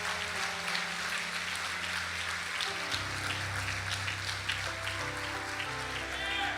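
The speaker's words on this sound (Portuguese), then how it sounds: "Você pode aplaudir o Senhor Jesus com as suas palmas?" Church congregation clapping hands in praise to Jesus, a fairly faint, sustained patter of applause under a steady sustained organ or keyboard tone that shifts chord partway through.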